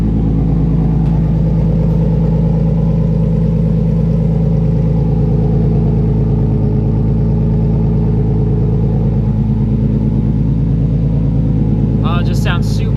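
Nissan Skyline RB25DET with Kelford 272 cams running at a loud, close, steady choppy idle, its pulsing rhythm unbroken until a short bit of speech at the end.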